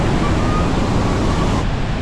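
Large waterfall in the Swiss mountains, its water pounding onto rock, gives a loud, steady broadband roar that fills the whole stretch without pause.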